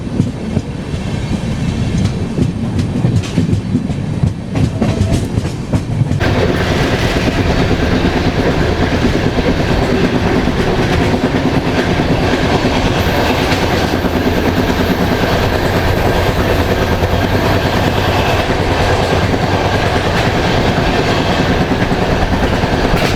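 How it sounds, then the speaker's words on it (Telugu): A Tirupati to Visakhapatnam AC double-decker passenger train runs slowly, near 30, with a loud, continuous rumble and steady rhythmic wheel clatter on the rails. The noise grows brighter and harsher partway through, and no one talks. "సో దానివల్ల మన ట్రైన్ అయితే కొద్దిగా స్లోగా అయితే వెళ్తాడు ఇక్కడ."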